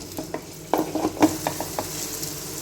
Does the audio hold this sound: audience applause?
no